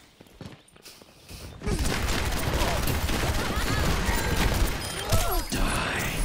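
Sustained, dense gunfire in a team shooter match of Overwatch, a loud continuous barrage of rapid shots starting after a quieter opening, with players talking over it.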